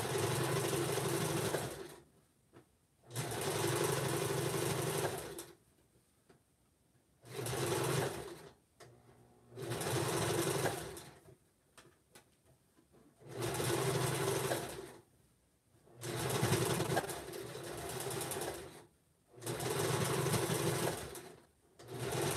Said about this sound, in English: I go around one more time, zigzagging just outside the seam